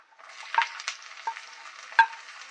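Coconut and soya chunks fry in a pan as sliced onion is tipped in, giving a soft, steady sizzle broken by a few sharper stirring clatters, close and moderately quiet with no talking.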